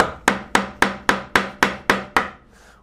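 A hand chisel chops a mortise in wood, struck nine times in a steady, even rhythm of sharp, close knocks with short wooden decays, the last blow softer.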